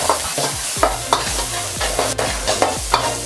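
Chopped onion sautéing in a pan for Gobi manchurian, a steady sizzle broken by regular scrapes and stirs of a utensil roughly every half second, close and fairly loud.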